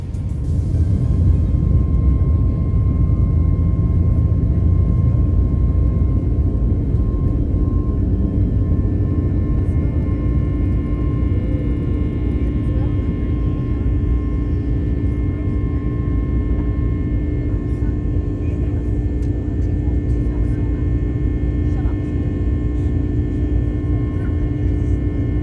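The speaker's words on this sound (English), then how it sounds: "let's enjoy the takeoff as we make our way up to Bali" Jetstar Airbus A321neo airliner taking off, heard from inside the cabin as a loud, steady engine roar and low rumble with a faint hum, holding constant from start to finish.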